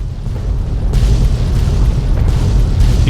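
Explosions in the video game Fallout 3, a loud rumbling boom with heavy low-end roar that surges about a second in and keeps rolling with crackling bursts, close and dominant with no talking.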